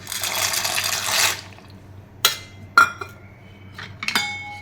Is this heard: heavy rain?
no